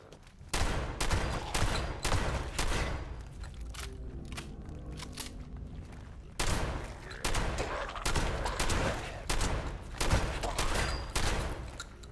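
Rapid bursts of gunfire in Fallout 76, loud sustained volleys of shots in two long stretches separated by a brief lull, with a voice faintly present.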